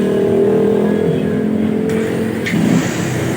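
A motorcycle engine runs steadily at close range, revving up and holding a loud, rough idle throughout; the engine misfires when the regulator lacks a capacitor.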